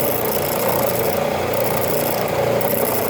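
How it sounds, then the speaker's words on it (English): A sander wheel grinds steadily against a wooden gun stock under repair, a loud continuous abrasive rasp with slight shifts in pressure and no talking. "Wheel being the sander wheel here."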